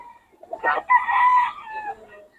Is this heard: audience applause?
no